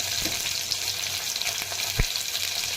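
Garlic frying in hot oil in a pan for palak khichdi, alongside cumin and chopped red chilli, as a steady close sizzle with a few soft clicks of stirring and one sharp knock near the end.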